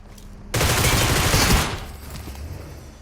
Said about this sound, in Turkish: Bir de sanırım VSS sıktı.